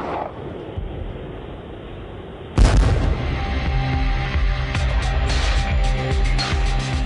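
A Marine anti-tank missile launch, such as a Dragon or vehicle-mounted TOW, bursts in with a sudden loud boom, followed by a sustained roaring rush of noise and rumbling fire.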